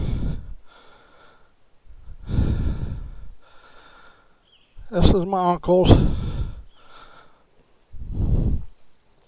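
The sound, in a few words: heavy breathing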